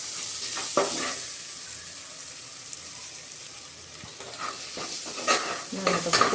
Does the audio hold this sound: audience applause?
no